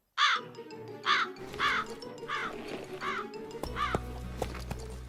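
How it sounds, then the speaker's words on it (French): Several harsh crow caws repeat at a steady pace, fairly close, in an animated cartoon, with a low rumble and faint clatter joining toward the end. "Va-t'en, vilain corbeau."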